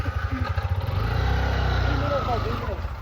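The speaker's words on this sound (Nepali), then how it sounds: "अंकलले चाहिँ बाइक स्टार्ट गर्दै हुनुहुन्छ" A motorcycle engine starts and revs steadily up close, its low throbbing drone running for about three seconds while people talk over it.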